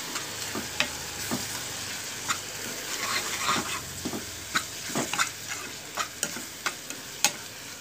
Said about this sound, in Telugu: అల్లం పేస్ట్ అండి బాగా వేగిపోవాలి, పచ్చివాసన పోయే వరకు అల్లం పేస్ట్.